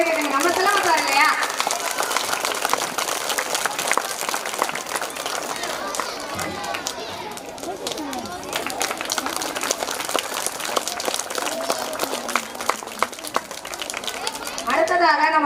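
Audience applauding at a school annual day celebration, a dense, sustained clatter of many hands close by, with crowd chatter and a voice over a loudspeaker coming through.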